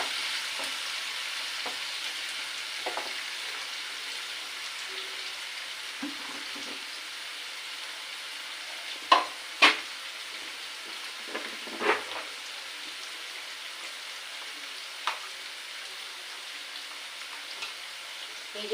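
Chowmein ingredients fry with salt and turmeric in a pan, a steady soft sizzle running throughout while a utensil stirs slowly, giving occasional louder scrapes and clacks against the pan.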